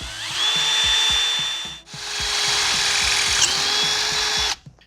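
A power drill with a step bit bores through a carbon fiber cover on a Ford Maverick, a close, loud, steady whine with a brief stop partway through, then resuming before cutting off abruptly.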